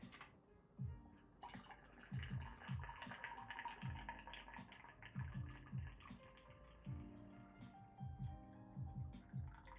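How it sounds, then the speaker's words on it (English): Tea being poured into a cup, a soft, close trickle with repeated gurgling glugs in uneven bursts, fairly quiet and with no talking. "Pour myself some tea."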